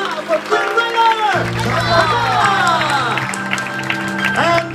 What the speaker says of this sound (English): a royal round of applause for Princess Rapunzel!